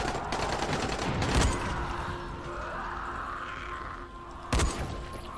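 Gunfire rings out in Dying Light, two sharp, loud shots several seconds apart against a steady background hum, with no talking.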